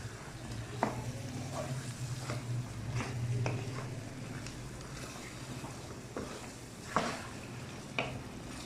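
Potatoes sizzle in a frying pan while being stirred, a steady frying hiss with a few sharp clinks and scrapes of the spoon against the pan, close by and with no talking.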